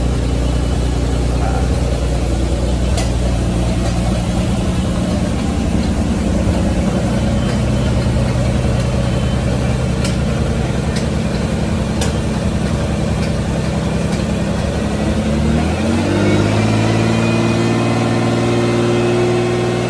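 A Ferrari V12 engine in a collector's garage runs steadily at a loud, close idle, a dense low rumble throughout that shifts in tone near the end as the revs change.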